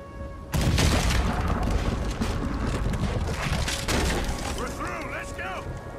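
A cannon fires in Red Dead Redemption 2 with a sudden loud boom, followed by a sustained roaring rumble and a whistling, warbling tone near the end.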